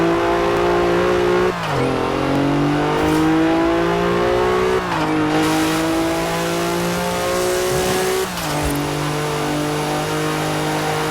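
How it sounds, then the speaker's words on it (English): Turbocharged Chevrolet Colorado ZR2 engine in Forza Horizon 4, revving hard and climbing through several gear shifts with brief dips between them, loud and steady throughout with no talking. "That turbo noise though."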